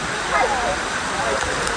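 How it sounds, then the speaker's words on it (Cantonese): Waterfall in East Java, Indonesia, a steady broad rushing roar of falling water, loud and continuous throughout. "我哋嚟到將軍瀑布啦，你睇下"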